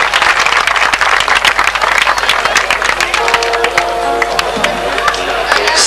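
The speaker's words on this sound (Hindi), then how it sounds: "जनाब फादर जोरदार तालियों में इस्तकबाल कीजिएगा" A crowd applauds loudly to welcome a priest onto the stage at a confirmation event, with dense continuous clapping and a few louder individual claps near the end.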